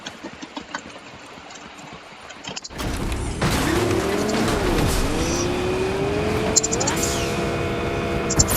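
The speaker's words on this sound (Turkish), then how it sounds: "Arabayı alıp hemen gideceğim." Car in the Fortnite video game starting up and driving off: a steady engine drone with rising and falling revs and a brief tire squeal, loud and close, following a quieter stretch of game ambience.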